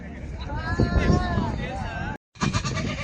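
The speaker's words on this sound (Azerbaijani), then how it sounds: "Sağ keçilərin balaları" Young goat kids at the Maştağa livestock market bleat in a long wavering cry, then a shorter burst after a brief cut, with crowd voices and talk mixed underneath.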